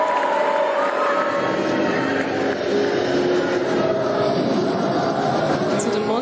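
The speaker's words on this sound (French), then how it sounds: "On l'acclame bien fort" A large audience at the Miss Cameroon 2023 pageant cheers and applauds in a loud, steady roar that fills the hall without pause.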